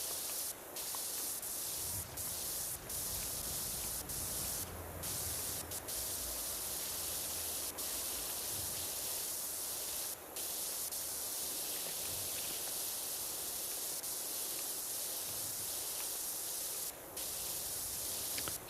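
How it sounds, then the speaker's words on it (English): Steady, loud hiss of a pressure washer spraying in PowerWash Simulator 2, running continuously with brief dips and no talking. "let's come over here, spray this off."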